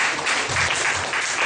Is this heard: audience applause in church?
yes